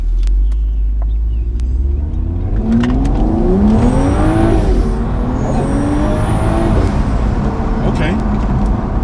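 A tuned BMW with an N55 engine and a Stage 2 tune, in Sport Plus, accelerating hard from inside the cabin, the engine note climbing through a gear and rising again, loud and continuous.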